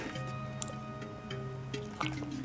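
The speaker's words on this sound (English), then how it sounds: "Just pour it in a cup like that" Airbrush cleaner solution is poured into a cup, giving a soft liquid trickle with a few drips and splashes over a steady background hum, close by and fairly quiet.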